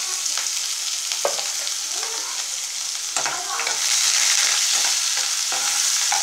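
Onions fry in a pan with a bright, continuous sizzle while a spoon stirs them in irregular scrapes and light knocks, the sizzle swelling louder toward the end; close and with no talking.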